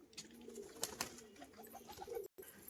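Pigeons coo softly close by in short, repeated rounded calls with small pauses between them, over faint background noise and a brief flutter or scuffle.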